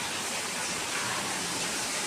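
Heavy hailstorm rain pouring down in a dense, continuous roar, loud and steady with no pauses.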